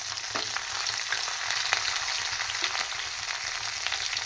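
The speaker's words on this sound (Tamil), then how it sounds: "அது கூடவே இந்த பச்சை மிளகாவும் சேர்த்துப்பேன்" Green chillies fry in hot oil with broad beans and a little moong dal, a loud, continuous close sizzle with occasional light scrapes of a spoon, no voices.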